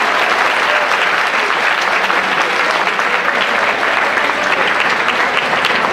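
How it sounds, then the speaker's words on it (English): Audience applause at a college excellence day ceremony celebrating campus placement records, a dense, steady round of clapping from a large crowd filling the whole stretch without pause. "applause to this entire school."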